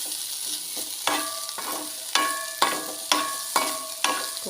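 Ivy gourd (kovakka) mezhukkupuratti stir-frying in a pan, a spatula scraping and clinking in a steady rhythm about once a second over a soft sizzle, close and with no talk.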